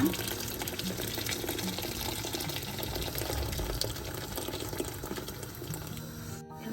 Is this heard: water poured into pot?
yes